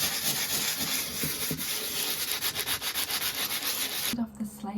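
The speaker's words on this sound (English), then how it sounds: "Bit of sanding ASMR" Painted slate is sanded by hand in steady, close back-and-forth scratchy strokes that stop abruptly near the end.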